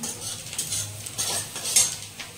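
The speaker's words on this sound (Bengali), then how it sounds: "আমার ডিম আর আলু কষানো চলছে" Eggs and potatoes being sautéed in a pan for an egg curry, with soft scraping and clinking of a utensil against the pan in irregular strokes, quiet and close, no voices.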